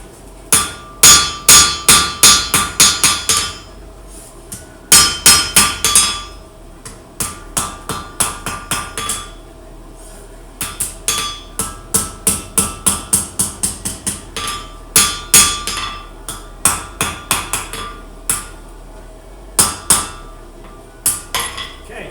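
Steel being hammered while forging a knife: quick bursts of sharp, ringing metallic blows, loud and close, repeated in clusters with short pauses between, no talking.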